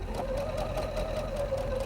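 A sewing machine stitches a quilt piecing seam for an Irish Chain block, with a steady rapid mechanical whir and rhythmic needle clatter running close and continuous throughout.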